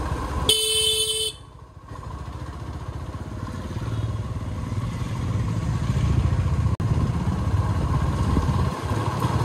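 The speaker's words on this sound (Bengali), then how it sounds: "অনেক বাইক এখান দিয়ে যাচ্ছে।" Motorcycles pass on a rough rural road, a continuous low engine rumble close by, opened by a short loud horn blast.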